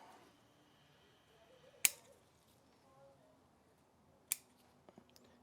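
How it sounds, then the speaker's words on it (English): Pruning shears snipping branches on a false olive bonsai, two crisp isolated cuts a few seconds apart followed by faint small clicks, close and quiet with no voice. "So I'm just going to come in here and start trimming these obvious long ones"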